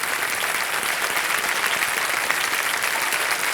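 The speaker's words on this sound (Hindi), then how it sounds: "एक बार तालियां बज जाएं इनके लिए।" Steady, dense applause from a large game-show studio audience, loud and sustained throughout with no pause.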